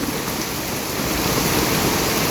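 Strong rainwater rushes through a garden during a heavy downpour, a continuous loud gushing wash that swells slightly toward the end, alone without speech.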